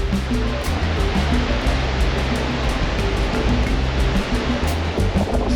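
The Zambezi River at Victoria Falls roars as a dense, unbroken rush of water, loud and steady with no pauses.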